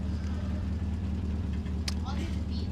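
A truck engine in the Farming Simulator 17 video game runs with a steady low hum throughout, under someone talking.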